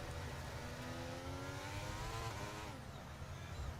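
A race car with a broken front wing spins at Silverstone in a racing video game; the engine drones loudly, then its pitch sweeps down and the note drops off near the end as the car loses grip.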